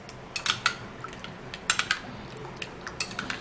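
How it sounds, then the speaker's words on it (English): A spoon stirs a homemade skin remedy in a small bowl, giving a string of light, close clinks and scrapes in irregular bursts with brief quiet gaps between them. "So I'm actually gonna be stirring this all up"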